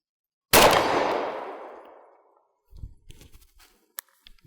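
A shotgun fires a single loud blast of buckshot at a 40-yard target during a deer-hunting demonstration. The sharp report rings out and decays over about two seconds, followed by faint clicks and handling noises.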